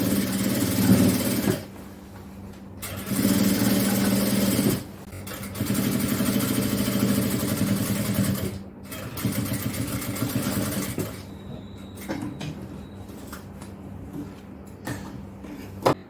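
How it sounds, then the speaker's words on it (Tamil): A sewing machine stitching puff shorts, running in several loud mechanical bursts of rapid needle chatter, stopping briefly between runs, close up, with quieter handling and clicks toward the end. "கொஞ்சம் இழுத்து இழுத்து தைக்கணும்."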